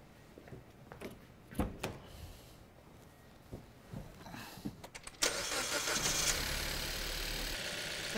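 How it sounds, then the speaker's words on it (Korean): A car engine on a workshop diagnostic check cranks after several quiet clicks and knocks, catches abruptly and settles into a steady, fairly loud idle. "시동을 한번 걸어 주십시오"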